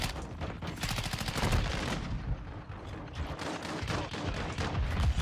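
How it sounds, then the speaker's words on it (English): Shotgun fire from the Shredder in Call of Duty: Modern Warfare II, Season 3, a dense run of loud booming blasts over continuous battle noise with no talking. "Shredder shotgun, shotgun, shotgun."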